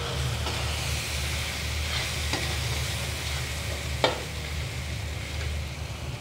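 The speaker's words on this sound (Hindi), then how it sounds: "हम इसको अच्छे से मसाला भून लेंगे इसमें" Spiced masala with softened tomato frying in a pan, a steady broad sizzle with scraping stir strokes and one sharper clatter, continuous and close with no talk.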